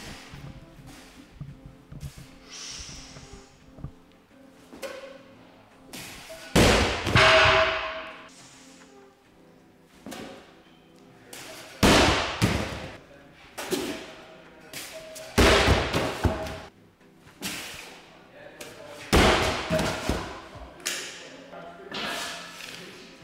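Barbell dropped to the floor after single reps, several separate loud crashing thuds spaced many seconds apart in a gym, with quieter background noise between them.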